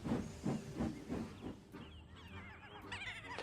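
A steam engine puffs in a rhythmic series of chuffs, about five evenly spaced beats, followed by a hiss of steam and higher squeaky tones near the end.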